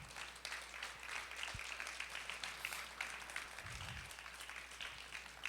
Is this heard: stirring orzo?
no